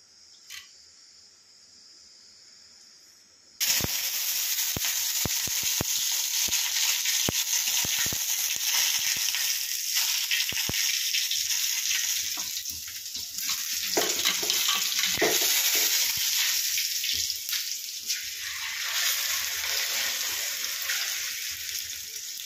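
Hot oil in a pan bursts into a loud, steady sizzle as the beaten eggs for a three-egg omelette go in, then keeps hissing and crackling up close for the rest of the time.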